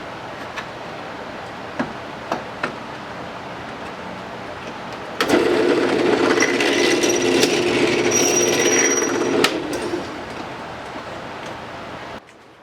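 A drill bores a hole through a pen blank to fit the tube. A few light clicks come first, then a loud steady whirring grind for about four seconds that tapers off and stops.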